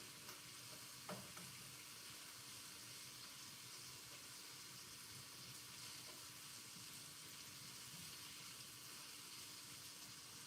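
Food fries in hot oil in a big pot on a stove, giving a steady, even sizzle that runs unbroken throughout, quiet and close, with no one speaking.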